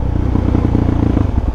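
Motorcycle engine running steadily up close while the rider shifts gears, a continuous low throbbing drone with a rapid pulsing beat and no voices.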